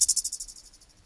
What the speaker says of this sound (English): A cricket makes this sound.